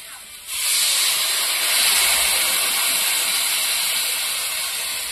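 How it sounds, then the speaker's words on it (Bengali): Water poured into a pan of hot fried spices during village cooking in India, bursting into a loud, steady steam hiss and sizzle that holds strong for several seconds. "হ্যাঁ, মশলাটা ভাজা হয়ে গেছে, এখন জলটা দিয়ে দেবো।"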